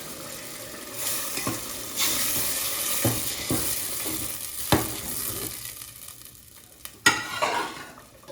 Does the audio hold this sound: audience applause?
no